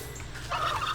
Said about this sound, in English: Turkeys are mean.